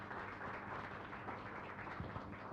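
An audience claps for the panelists at a green hydrogen conference session, a soft, steady patter of many hands, distant and faint, continuing evenly without voices on top.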